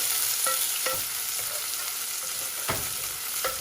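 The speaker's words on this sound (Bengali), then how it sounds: "পেঁয়াজ দিলাম, ভালো করে নাড়াচাড়া করি।" Onions frying in a pan while being stirred, a continuous close hiss with repeated light spatula taps and scrapes spaced irregularly through it.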